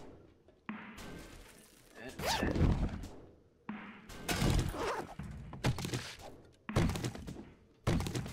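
A zombie in the video game 7 Days to Die bangs repeatedly on a house, heavy thunks and crashing blows arriving in irregular bursts with short pauses between them.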